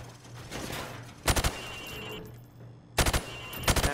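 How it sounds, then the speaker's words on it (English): Rifle fire at targets on a training range in the video game Modern Warfare Remastered, two quick bursts of close, loud shots separated by a short pause, then another burst at the end. "Now, shoot at the targets while firing from the hip."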